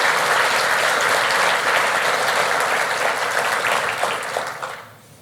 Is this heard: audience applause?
yes